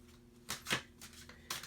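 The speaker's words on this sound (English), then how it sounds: "I'm going to pull 3 energy cards" Energy cards from a reading deck being shuffled: three quick riffling bursts, close and crisp, with short pauses between them and no voices.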